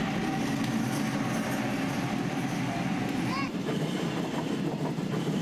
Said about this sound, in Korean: 기차는 오늘도 작은 오두막집 앞을 지난다.